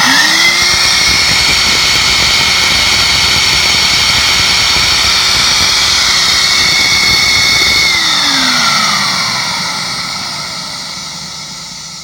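A Mytee Airhog machine with its exhaust port mounted out the side roars with a steady loud whine and tonal hum, then winds down as the pitch drops and the noise fades toward the end.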